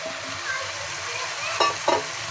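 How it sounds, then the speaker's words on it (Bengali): Potatoes and marinated chicken frying for chicken biryani, a steady broadband sizzle throughout with two short scraping stirs of a spoon against the pan near the end, close and moderately loud, no talking. "আলু চিকেন ভালোভাবে কষিয়ে নেব।"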